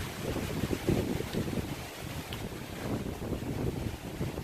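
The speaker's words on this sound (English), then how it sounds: "the wind's blowing, which is nice" Wind blows steadily across a hilltop on the Appalachian Trail on a hot day, a continuous low, gusty rumble of buffeting against the microphone, with no talk.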